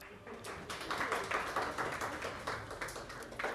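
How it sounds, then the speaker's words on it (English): An audience at the Freestyle Chess 2025 tournament in Weissenhaus applauds as a player is called to the stage, a steady patter of clapping running through the whole moment at moderate volume. "Please give her a round of applause"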